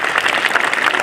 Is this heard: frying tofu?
no